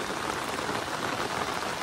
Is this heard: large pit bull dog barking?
no